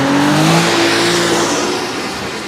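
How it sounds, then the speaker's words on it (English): A high-revving car engine screams past, pitch sliding downward as it moves away, loud and alone. "Here, you could even listen to a flyby."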